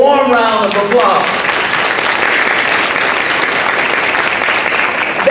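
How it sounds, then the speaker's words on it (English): Loud, dense applause from the audience at an NAACP Mother of the Year event honours the hostesses, rising right after a speaker's closing words and holding steady to the end. "let's give them a warm round of applause"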